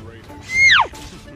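A short, bright synthetic smash effect from the mobile game Mobile Legends, rising then sweeping downward in one sharp burst over low background game noise.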